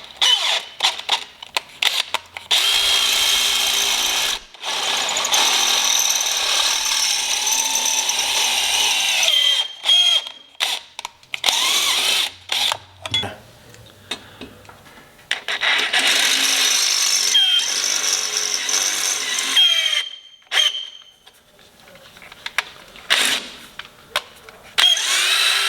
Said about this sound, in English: You're going to have to drill out these factory holes to a 5/16.